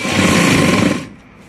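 Sewing machine stitching lace around the round edge of a blouse, a fast close whirring run for about a second that then stops, leaving a faint hum.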